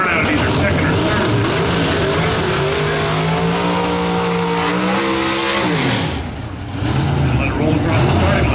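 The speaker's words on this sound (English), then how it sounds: "ProStock car to a burnout, he pulls through, sets the line lock, which locks the front brakes." A Pro Stock drag racing car does a burnout at the NHRA Sonoma Nationals, its engine screaming and climbing in pitch with squealing tires, then dropping off briefly before roaring again, loud and close under an announcer's commentary.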